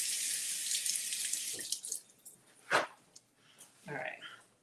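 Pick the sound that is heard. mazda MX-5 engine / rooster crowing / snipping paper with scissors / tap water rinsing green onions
tap water rinsing green onions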